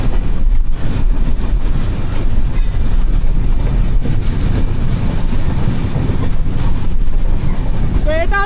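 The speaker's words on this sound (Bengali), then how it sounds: "ও, এটা হচ্ছে রাজশাহী সিল্ক সিটি, যেটা রাজশাহী থেকে ঢাকার মধ্যে চলাচল করে" Rajshahi Silk City express train passing alongside on the neighbouring track, a loud continuous roar of rolling wheels with clattering rail noise, and a brief squeal near the end.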